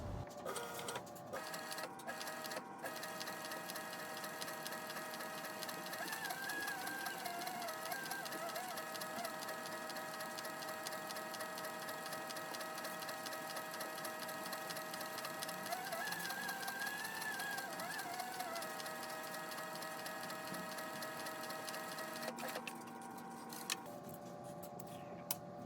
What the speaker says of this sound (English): I'm going to use a Cobra Class 26 to stitch it up